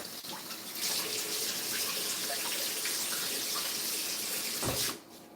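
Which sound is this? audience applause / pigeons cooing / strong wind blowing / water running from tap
water running from tap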